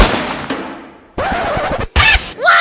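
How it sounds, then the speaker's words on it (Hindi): Sharp bursts of gunfire in a school setting, several loud cracks in separate blasts, some with ringing tails, fairly near and with no talk over them. "कहाँ गोली चल रही है?"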